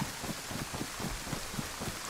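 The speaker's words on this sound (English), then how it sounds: "So better do it now when it's raining." Rain falls in the DayZ survival game on the Livonia map. A steady, dense hiss of rainfall fills the scene, with a faint, repeating patter underneath and no voices.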